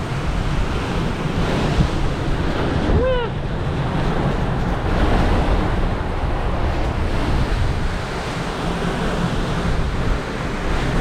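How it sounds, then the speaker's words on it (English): Loud, roaring hurricane wind gusts from Hurricane Milton at landfall buffeting the microphone continuously, a dense rushing noise with a brief faint whistle-like tone partway through. "it is gusting very, very heavily"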